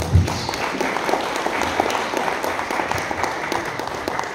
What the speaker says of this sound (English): Can I have a round of applause for it, please?